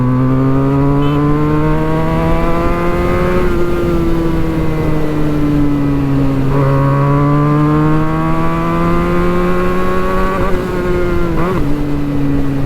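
A Benelli 302S motorcycle fitted with a Yoshimura exhaust rides along a highway, its loud, close engine droning steadily and rising and falling in pitch through gear changes, with no one talking.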